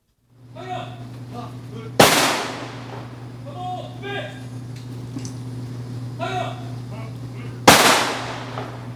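Two sharp rifle volleys of a gun salute crack out several seconds apart at a Korean Army memorial service for fallen soldiers, loud and echoing, with murmuring voices and a steady low hum between them.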